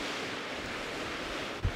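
Steady wind sweeping across a high-country hillside, a constant broadband rush with microphone buffeting and a brief low thump near the end, with no voices.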